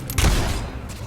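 Gunfire in the Fable 3 video game: a loud close burst of shots opening with a sharp crack and fading quickly into a short rumbling tail.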